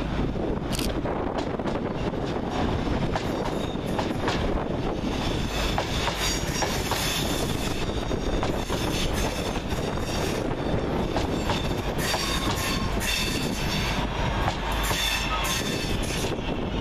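Two coupled Class 323 electric multiple units pulling out of Aston station, a steady loud rumble of wheels and traction with squealing and rhythmic clicking over rail joints, buffeted by wind on the microphone, no voices.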